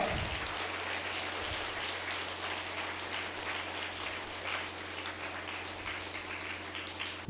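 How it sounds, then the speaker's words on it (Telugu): Audience applause for a school founder at a public ceremony, sustained dense clapping throughout with a rain-like texture, steady and fairly distant, with no talk over it. "మన రవీంద్ర మాస్టర్కి గట్టిగా చప్పట్లు కొడదాం"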